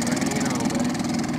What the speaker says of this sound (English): The engine only runs so slow.